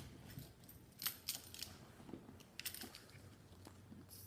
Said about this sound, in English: My keys.